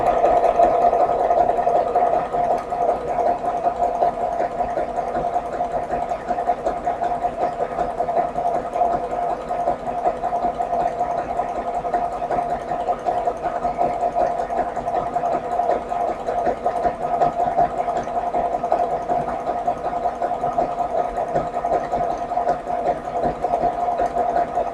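A sewing machine runs steadily through fabric for the whole stretch, a continuous mechanical hum with a fine rapid stitching rattle, close and even, with no pauses and no voices.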